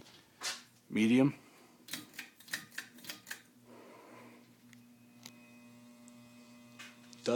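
A white 36-inch CEC Georgian 303D ceiling fan runs on medium with a steady low motor hum, scattered light clicks and rattles, and a brief voice near the start.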